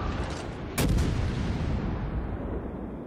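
Secondary guns on the Edinburgh cruiser in World of Warships fire in a single sharp, loud blast that rings out over a constant dense roar of naval battle noise.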